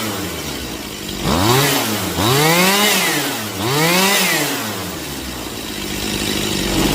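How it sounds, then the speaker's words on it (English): A Stihl chainsaw being tuned revs up twice in quick rising-and-falling sweeps during a throttle response check, loud and close over a steady idle with no talking. "Let's just check the throttle response."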